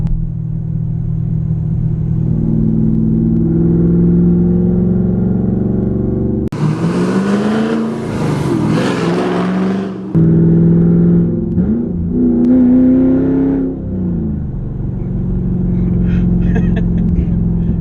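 A 2010 Stage II Nickey Camaro V8 rumbles at idle, then revs hard with exhaust dumps open, a loud, raspy roar, before settling back to a throaty burble.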